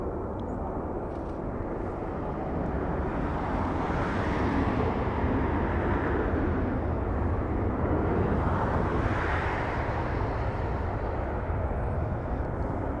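A passenger jet in Pixar Toy Story livery landing at Los Angeles International Airport, its broad steady engine roar swelling and lingering close by, mixed with a continuous wash of airport and traffic noise.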